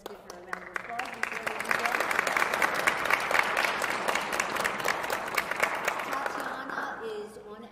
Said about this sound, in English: Tatiana Abramova, let's give her a round of applause